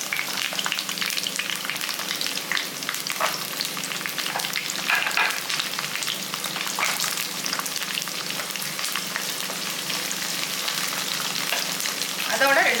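Shallots fry in a pan for a Tamil-style curry, with a continuous close sizzle and frequent scraping stirs of a spoon, steady throughout with no talk.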